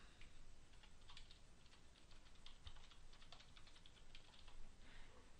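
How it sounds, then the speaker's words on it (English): Steady typing of an email address and password on a computer keyboard, a continuous run of close, quick key clicks with no talking. "in these fields I'm going to type in my email and password for my Dropbox account"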